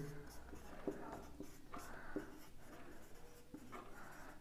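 Marker or chalk writing on a board in a Class 10 math lesson, soft scratchy strokes with a couple of taps, heard faintly beneath a teacher's steady speech.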